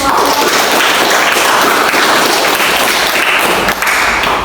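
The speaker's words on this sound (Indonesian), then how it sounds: "Oke, berikan aplaus untuk" A classroom audience applauds group 4 at a teaching session, with dense, loud, steady clapping from many hands filling the whole stretch without pause.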